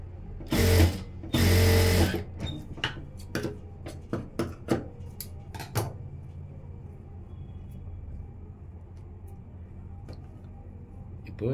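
An electric sewing machine stitches a blouse in two loud whirring bursts near the start, then gives a scatter of sharp mechanical clicks and ticks before going quiet.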